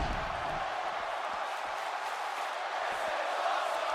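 A dense, steady roar of a wrestling crowd cheering at a live event, holding at an even level throughout with no single voice standing out.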